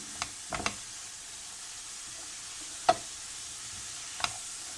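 Poğaça filling sautéing in a pan, a soft steady sizzle with a few sharp spatula scrapes and taps spaced irregularly, fairly quiet and close, with no talking.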